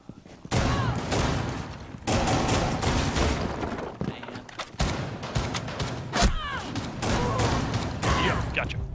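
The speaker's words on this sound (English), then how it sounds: "When in doubt, shoot a lot." Gunfire in the video game Rainbow Six Siege, sustained loud automatic bursts with brief gaps, dense and close, with a player talking over parts of it.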